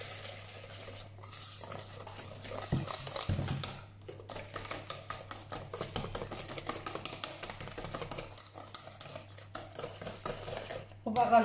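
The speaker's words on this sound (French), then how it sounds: "Mélanger." Cake batter being stirred by hand in a bowl, with scraping, clinking strokes in an uneven rhythm, close and moderately loud, plus a few heavier knocks and a steady low hum underneath.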